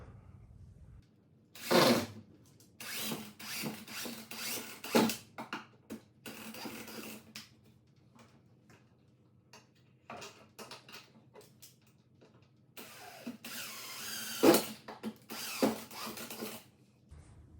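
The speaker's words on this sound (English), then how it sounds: "I'm just gonna screw it in. That'll finish securing the ladder to the rafters" A power drill drives screws through a 2x4 into attic rafters to secure a pull-down attic ladder, with close, loud whirring bursts around two and five seconds, another run near thirteen to fifteen seconds, and quieter handling noises in between.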